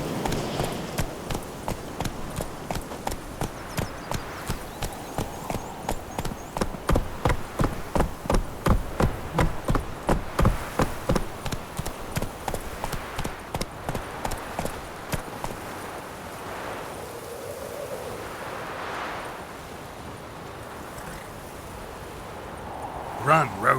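A horse galloping in The Witcher 3 video game, rapid rhythmic hoofbeats that speed up and then slow to a trot before fading. Game ambience runs underneath.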